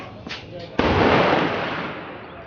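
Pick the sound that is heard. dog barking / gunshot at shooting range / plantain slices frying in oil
gunshot at shooting range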